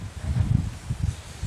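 Strong wind blowing outdoors on a sunny but stormy day in Spain, a low rumbling buffet against the microphone that gusts unevenly throughout.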